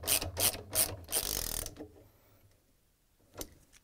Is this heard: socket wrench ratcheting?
yes